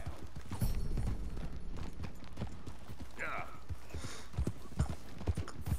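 A Clydesdale's hooves in Red Dead Redemption 2 clip-clop in a steady walking rhythm, close and clear, with a brief whinny partway through and voices talking in the background.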